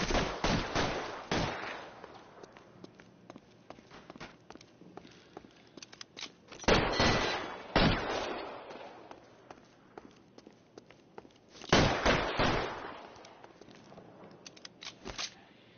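Gunfire in an L.A. Noire shootout: sharp bursts of rapid shots come in three clusters, near and loud, separated by quieter stretches of scattered single cracks and movement.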